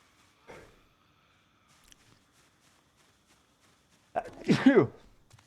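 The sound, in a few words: sneeze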